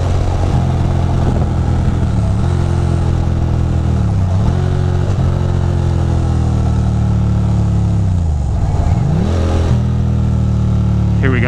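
A motorcycle rumbles steadily along a twisty back road on Old Route 17, close and loud, its engine note rising and dipping through gear changes and throttle shifts, with brief revs between turns.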